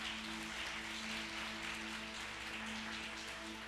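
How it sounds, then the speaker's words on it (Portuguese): Congregation clapping together in a church, a steady, dense wash of applause held at an even level from start to finish, with no voice on top. "Você pode aplaudir Jesus porque Ele é bom?"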